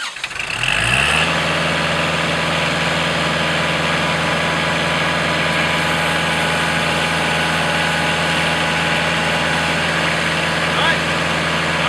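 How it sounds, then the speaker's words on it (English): A tractor engine cranks and catches, then settles into a steady, loud idle that drones on without change. "Okay, with the boom attached, Brandon, go ahead and start the tractor and lift boom."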